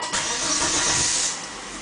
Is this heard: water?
no